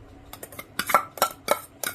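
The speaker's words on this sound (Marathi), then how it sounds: "त्याला उकळी आल्यानंतर असं जरा ढवळायचं" A metal spoon stirs boiling Konkan-style black-eyed bean gravy in a pot, giving a run of sharp, close clinks and scrapes against the metal in an irregular rhythm, with no talk.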